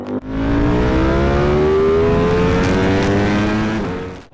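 Ducati Panigale V4S fitted with an Akrapovic exhaust riding past at high revs, a loud, close engine roar that climbs steadily in pitch and then cuts off sharply.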